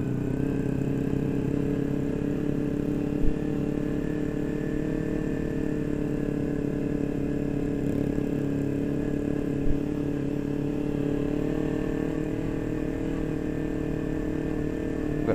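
Motorcycles on a Sunday morning group ride rumble and idle nearby with a steady, continuous engine drone and faint occasional knocks, with no voices over it.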